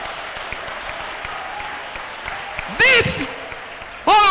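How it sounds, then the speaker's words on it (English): Church congregation applauding a small child, a steady broadband clatter of many hands lasting several seconds at moderate loudness, then broken off by two short loud bursts of vocal sound. "Nice round of applause"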